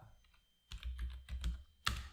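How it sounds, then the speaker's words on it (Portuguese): Someone types a netsh command on a computer keyboard: a few soft taps, then a quick run of clattering keystrokes and a louder final key press, close and alone. "Então a gente digita netsh"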